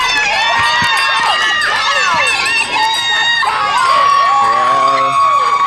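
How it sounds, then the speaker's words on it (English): Spectators at a 2023 road relay race cheer and shout loudly for a runner approaching them, a continuous close wall of crowd noise with children's yells and whoops throughout. "They're cheering him on."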